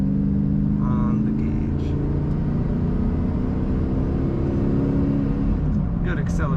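A 2005 Dodge Ram 1500 SLT Daytona 4x4 pickup accelerates on the road, its engine giving a low, steady rumble heard from inside the cab, with someone speaking briefly over it.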